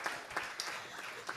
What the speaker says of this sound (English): I think we can give him a round of applause.